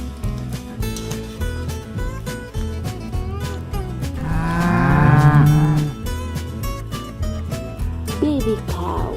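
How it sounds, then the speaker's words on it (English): A toy baby cow plays a recorded moo, a drawn-out tonal low call rising in the middle of the clip over bright nursery-rhyme music, fairly loud and alone without talk. "Baby cow."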